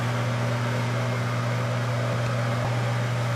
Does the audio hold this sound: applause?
no